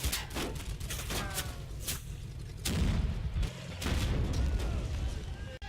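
Tank gunfire from a Stuart light tank dueling a Panzer III in a Combat Mission game set in Italy, with repeated sharp shots and booms over continuous loud battle rumble.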